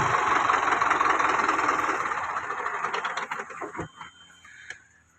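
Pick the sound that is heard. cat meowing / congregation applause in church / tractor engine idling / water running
tractor engine idling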